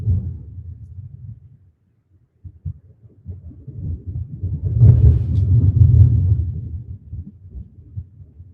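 Thunder rolls during a Halloween live stream, low and deep, first a softer rumble, then a pause and a swelling, louder peal that fades slowly, heard alone without speech.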